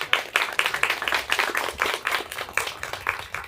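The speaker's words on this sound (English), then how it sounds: "please give yourselves a round of applause" An audience claps at a student storytelling showcase at FGCU, with many quick, irregular hand claps of even loudness filling the whole stretch and no speech over them.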